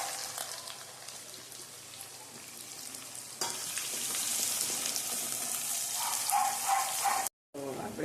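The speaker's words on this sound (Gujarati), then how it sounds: "હવે આપણે આ ડુંગળી સાતળવાની છે।" Onions sautéing in oil in a pan with bay leaf, cinnamon pieces and chillies for a Gujarati paneer curry, giving a steady sizzling hiss that swells partway through, then cuts out briefly near the end.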